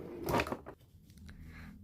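A vanity drawer slides open with a short, close scrape and knock, followed by faint rustling.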